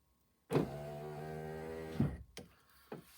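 A Toyota RAV4 door lock actuator motor whirs in a short, steady electric burst ending in a clunk, followed by a couple of fainter clicks and brief motor runs, close and quiet.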